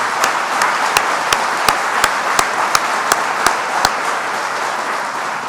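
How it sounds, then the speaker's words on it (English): Audience applause at a governor's jobs announcement for Hill-Rom Holdings in Skaneateles Falls, with a steady wash of clapping and one regular, prominent nearby clap sounding about three times per second. "So I'd like you all to give yourself a round of applause."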